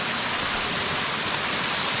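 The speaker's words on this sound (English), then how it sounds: "So these are the water spouts." Water pouring steadily from stone spouts shaped like cows' heads at a ceremonial bathing site in Upper Mustang, a constant close, dense rushing splash with no talk.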